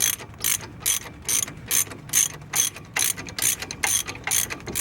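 Ratchet snugging a brake caliper bolt on a 2000 Jeep Grand Cherokee during a front brake job, a dozen or so evenly spaced bright clicking bursts, close and loud, with no talk.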